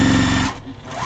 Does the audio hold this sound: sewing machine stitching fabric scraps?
yes